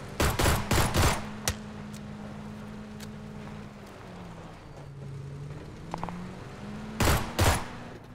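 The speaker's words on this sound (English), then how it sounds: "They're on top of the hill, shooting at us." Gunfire from enemies on a hilltop in the Mad Max video game: two bursts of sharp shots, one at the start and one near the end, over a steady vehicle engine drone.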